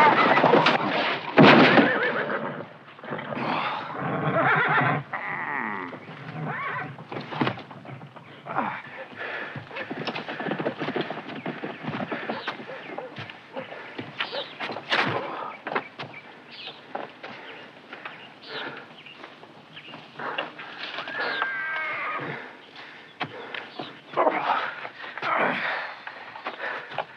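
Horse hoofbeats clatter with a brief whinny near the start, over a busy outdoor bed of movement, birds and scattered background voices.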